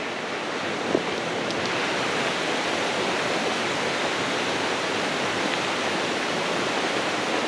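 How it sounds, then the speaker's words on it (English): A small brook flows outdoors, a steady rushing and splashing of water that stays even and fairly loud from start to finish, with no voices. "Wonderful little brook."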